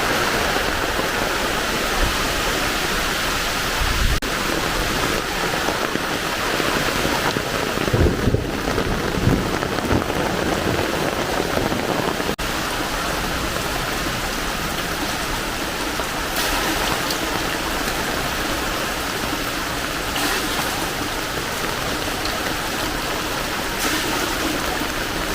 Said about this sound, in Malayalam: ഇപ്പോൾ അത്യാവശ്യം നല്ല മഴയാണ്